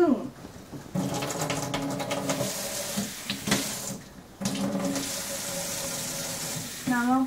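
Water running from a kitchen tap while making blackberry jam, a steady rushing flow that stops and starts in several stretches, with someone talking over it.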